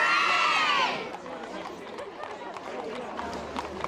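Crowd noise at the Royal Ascot procession, spread broad and busy as the royal carriages drawn by grey horses arrive; a voice speaks briefly at the start, then steady cheering and chatter continue throughout.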